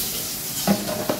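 Cumin seeds and bay leaf hit hot oil for tempering, giving a short, soft sizzle with a couple of faint metallic stirring clinks.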